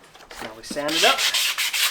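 A rasp files a horse's hoof while an eventing horse is shod with toe clips, giving repeated close, coarse scraping strokes after a brief tonal sound.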